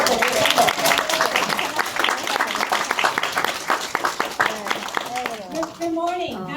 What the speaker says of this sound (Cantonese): thank you for clapping for all our hardworking dads